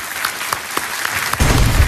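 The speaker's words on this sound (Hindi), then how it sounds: "तालियों के साथ उनका परिचय होगा" A studio audience at a TV quiz show claps in a light patter that swells into full, loud applause in the last half second.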